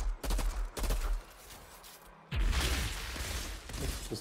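Gunfire from weapons in the video game Outriders, with loud rapid bursts of shots at the start, a brief lull, then a sustained, dense stretch of firing and impacts that continues to the end.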